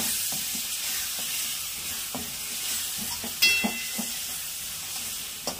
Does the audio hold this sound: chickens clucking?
no